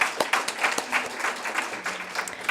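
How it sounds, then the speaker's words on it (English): Audience applause at an Africana Studies symposium awards session, a steady medium-loud patter of many hands clapping together with dense overlapping claps throughout. "So let's give Taran a round of applause."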